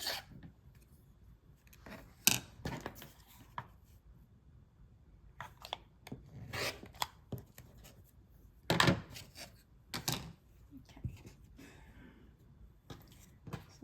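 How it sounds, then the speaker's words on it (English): Scissors trimming excess fabric from sewn cloth doll pieces, giving faint, scattered snips and soft rubbing in an otherwise quiet room. "now I'm going to trim off the excess"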